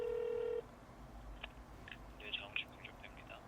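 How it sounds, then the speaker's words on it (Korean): A phone line rings while a call to the Korea Automobile Racing Association connects, a short steady tone followed by faint chirps and line noise, with no voices heard. "이거 일단 한번 여기 대한자동차 경주협회 여기다 한번 전화를 해봐야 될 것 같은데요"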